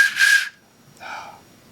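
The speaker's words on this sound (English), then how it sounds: "so we got a 3-hole whistle" A handmade three-hole ceramic whistle gives two short toots close up, a brighter breathy note followed after a pause by a softer, lower one, with no talking.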